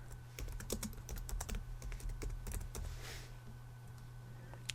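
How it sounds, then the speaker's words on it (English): Quick bursts of key clicks on a computer keyboard while entering a key alias during app signing, close and clear over a low steady electrical hum, typing stopping after about three seconds, with no talk. "Type in your key alias."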